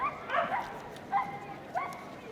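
Four-year-old female border collie at an agility team final, giving a few short yelping barks and whimpers, moderately close, with arena crowd murmur beneath.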